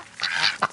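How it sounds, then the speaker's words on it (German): A drake duck gives a short raspy quack, close and fairly loud, with a brief second call at the end. "Wie ich dieses Erpelgeräusch vermisst habe."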